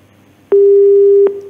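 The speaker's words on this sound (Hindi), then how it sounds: "फोन काट दिया।" A telephone busy tone sounds after a call is hung up: one steady, loud electronic tone about three-quarters of a second long, starting and stopping abruptly over a faint background hiss.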